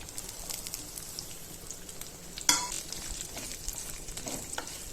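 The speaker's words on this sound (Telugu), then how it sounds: "ఇప్పుడు సన్నగా తరుక్కున్న కొబ్బరి ముక్కలు వేసాను. అదే నూనెలో కొంచెం ఆయిల్ యాడ్ చేసి" Thinly sliced coconut pieces fry in oil in a pan, giving a steady close sizzle with a brief louder crackle and stirring noise partway through.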